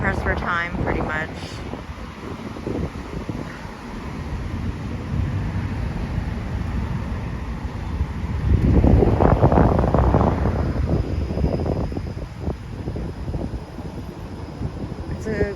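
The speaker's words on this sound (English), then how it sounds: "It's a windy day," Wind buffets the microphone on a windy Toronto street, producing heavy low rumbling gusts that swell and ease, loudest around the middle, with faint traffic underneath.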